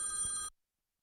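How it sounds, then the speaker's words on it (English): Telephone ringing for an incoming call, a single bright electronic ring tone with steady tonal pitches that cuts off abruptly after half a second, followed by silence. "Phone call again."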